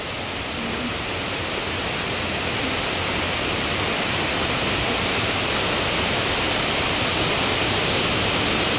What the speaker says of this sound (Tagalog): Ayan na po yung sapa.